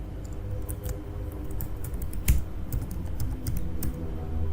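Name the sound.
typing on a computer keyboard, entering an FTP password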